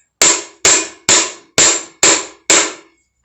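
Six sharp metallic hammer taps on a dented metal exhaust pipe, evenly spaced about half a second apart, each ringing briefly before fading. No voices.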